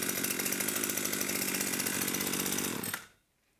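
A Chinese 35cc weed eater engine, fitted to an OBI Variolux V-BFS 43 from 2008, runs loud and steady with a buzzing two-stroke whine, then cuts off abruptly near the end, leaving quiet.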